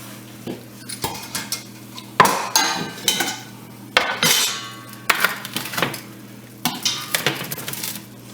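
Roasted chicken bones and mirepoix being lifted out of a stock pot on a stovetop: a string of clanks and scrapes of utensils against the metal pot, with splashes in between, irregular and close, with no talk.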